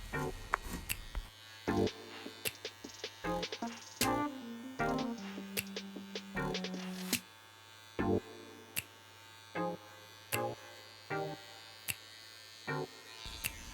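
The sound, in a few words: electric hair clipper trimming neck hair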